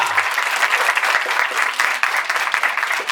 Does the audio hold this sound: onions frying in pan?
no